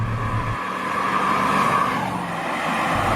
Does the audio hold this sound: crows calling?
no